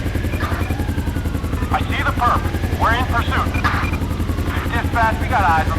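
A police helicopter in GTA 5 gives a steady, loud rotor chop that runs throughout, with radio-style voices talking over it.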